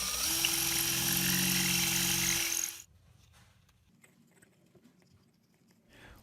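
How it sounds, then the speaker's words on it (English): A small power drill whirs steadily at high speed for a couple of seconds drilling a hole in the top of a soda can, then cuts off, leaving faint handling noises and quiet rustling. "Drill a hole into the top of the soda can."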